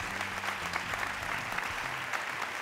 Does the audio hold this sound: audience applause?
yes